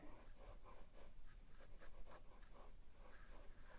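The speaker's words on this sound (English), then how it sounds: "And now I'm going to sketch in" A pencil sketches a toucan drawing on paper in soft, close scratchy strokes that repeat in short bursts, faint and steady with no talk.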